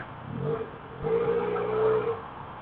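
A Benelli Leoncino 500 motorcycle engine and exhaust hum steadily nearby, rising in two swells as the throttle opens, with no one talking.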